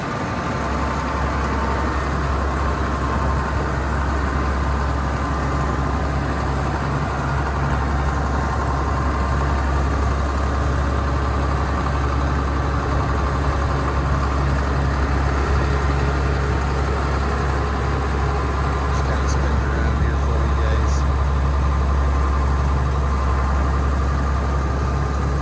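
A John Deere 7720 combine with hydrostatic drive and cab runs steadily nearby, its engine a constant low drone with a broad mechanical hum as the tires turn, no talk.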